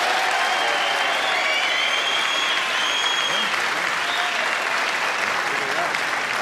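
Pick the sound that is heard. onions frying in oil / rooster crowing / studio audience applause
studio audience applause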